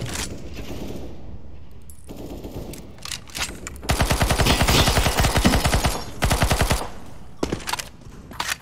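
Rapid automatic gunfire from Counter-Strike: Global Offensive, loud bursts of shots with short pauses between them, close and dense, with no talking.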